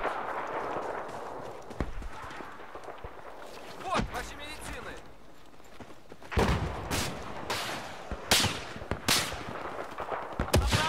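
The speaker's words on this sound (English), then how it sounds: "someone's shooting at me." Gunfire in the video game Battlefield 4 multiplayer, with scattered shots and bursts mixed into busy game noise, growing denser and louder in the second half while someone talks over it.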